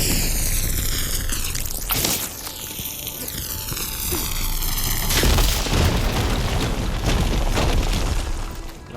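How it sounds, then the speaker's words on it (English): A fire gleam blows up in the video game Horizon Forbidden West, a loud booming blast around two seconds and another surge near five seconds, with a rumbling, crackling tail and sweeping tonal game sounds throughout. "Should be able to blow up that fire gleam."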